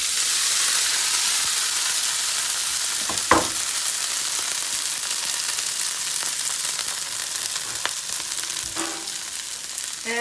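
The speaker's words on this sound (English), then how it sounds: "I'm gonna go ahead and add my hash browns to my pan." Hash browns sizzle and fry steadily in a hot pan, a continuous close hiss with a few louder crackles and clinks of stirring, no voices.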